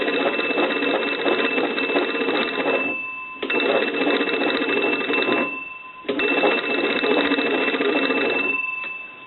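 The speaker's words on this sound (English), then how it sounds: "we want to crank this crank and ring the bell" A loud, continuous mechanical bell of a wooden wall crank telephone rings in three long bursts of about three seconds each, separated by brief pauses, with no one speaking.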